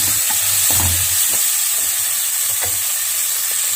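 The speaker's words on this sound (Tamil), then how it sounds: "நல்லா தக்காளி பழம் நல்லா இந்த மாதிரி நல்லா மிக்ஸ் பண்ணி கொடுத்துங்க" Onion and tomato are stirred and fried in a pan, giving a loud, steady sizzle close up with occasional soft scrapes of a spatula and no talking.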